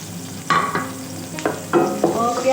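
Onion frying with chicken in a pan, stirred briskly, with several close, loud spatula scrapes and clanks over a continuous sizzle.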